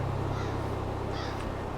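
A crow caws a couple of times at a distance in a Macbeth film scene, faint calls over a dense, steady rumbling ambience.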